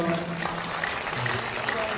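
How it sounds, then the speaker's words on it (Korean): A talk concert audience applauds a guest's introduction, a thick, steady clapping layered under a speaking voice. "큰 박수 좀 부탁드립니다."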